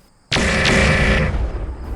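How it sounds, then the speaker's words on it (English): An ammo explosion sound effect for a BattleTech Dark Age battle between Clan Nova Cat and the Draconis Combine bursts suddenly and loudly, then rolls on as a dense roaring blast for over a second before tapering slightly. "They set off cascading ammo explosions and leave the right torso of the Crusader a smoldering wreck."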